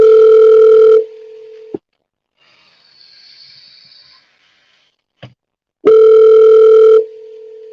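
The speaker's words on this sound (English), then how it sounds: "I'm calling her right now. And I'm dialing her out." A telephone call placed to a cleaning business, heard as two long, loud tones of ringback or dial signal, separated by a quiet stretch with faint clicks and hiss, then a click before the tone returns.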